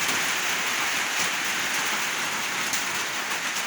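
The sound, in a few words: rain falling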